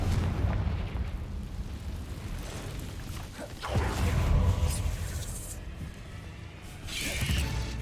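Spell blasts from the Confringo fire curse in the Hogwarts Legacy video game, heavy booming explosions with rumbling low bursts around the middle and near the end, dense and continuous rather than isolated hits.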